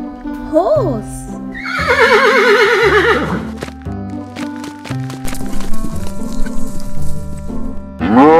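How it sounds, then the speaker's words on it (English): A cartoon horse gives a loud rising and falling whinny followed by a long quavering neigh, then rhythmic clip-clop hooves, with a chicken clucking briefly and a voice speaking near the start. "Horse."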